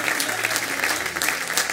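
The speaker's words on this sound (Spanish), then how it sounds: "Dele un gran aplauso al Señor." A congregation claps together during a Spanish-language communion service in a church, a dense, steady, loud round of applause that fills the whole moment without a break.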